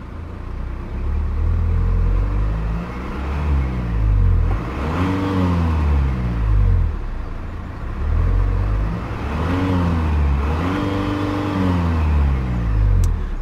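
A 2017 Volvo V90 2.0 D5 PowerPulse diesel engine is revved repeatedly up to its 3000 RPM limiter, with steady rising and falling engine tones that are loud and close, and no talking.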